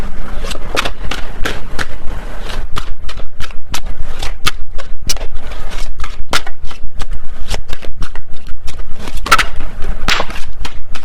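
A tarot deck shuffled by hand in rapid, loud, close riffling bursts, crisp card slaps and flutters repeating steadily throughout.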